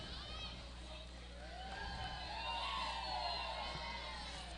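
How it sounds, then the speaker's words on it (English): A high school baseball crowd doing the wave swells in a rolling cheer, with whoops and young voices rising and falling steadily in the background. "And the crowd's doing the wave again."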